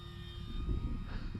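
A small airplane makes a slow low pass with flaps fully down, its engine a steady moderate drone that swells slightly midway, broadband and continuous with no voices.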